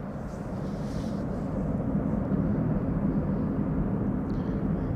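A KLM-operated Embraer E-jet on approach to Amsterdam Schiphol, a broad, steady roar of jet engines that grows slightly louder over a few seconds, heard from a distance without voices.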